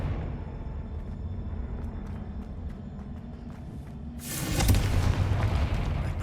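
Confringo spell explosions in Hogwarts Legacy, a low rumbling bed, then a sudden loud bright burst that swells into a sustained booming roar.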